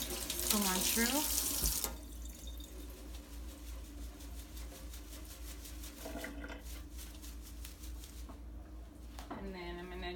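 A kitchen tap runs water over fresh cilantro, a loud gushing rush at first that settles into a softer steady splashing, while a person talks over it.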